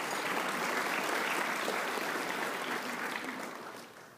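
An audience at a talk on libertarian branding claps in a dense, even wash that sounds somewhat distant. The applause holds for a few seconds, then tapers off softly.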